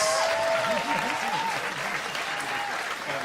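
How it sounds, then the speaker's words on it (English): Audience at a youth politics stage event clapping in a thick, steady applause that carries for a few seconds while a loud amplified voice speaks over it. "give a warm applause for Reverend Jackson, for Robert Farid, for Hans van Baalen, Erik"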